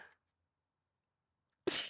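A single sharp sneeze bursts out near the end after a long quiet stretch, loud and close.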